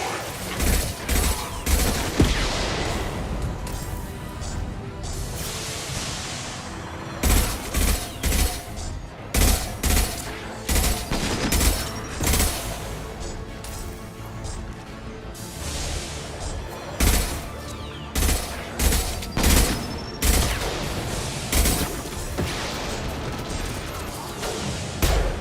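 Rapid repeated gunfire in the Mass Effect video game, loud and dense bursts of shots with mechanical clatter, coming in irregular volleys over a continuous battle din.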